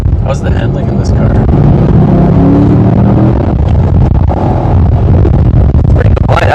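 A 2010 fifth-generation Chevrolet Camaro SS driven hard through corners gives a loud, steady low engine and road drone from inside the cabin. People talk over the noise throughout.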